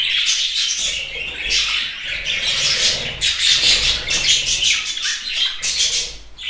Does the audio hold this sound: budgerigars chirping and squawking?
yes